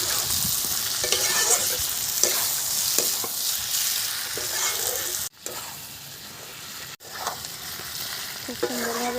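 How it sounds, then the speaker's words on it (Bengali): Onion, tomato and spice masala frying in a pan, a loud close sizzle that runs steadily throughout, with occasional stirring scrapes and two very brief dropouts. "খুব সুন্দরভাবে মশলাটা কষা হয়ে গেছে"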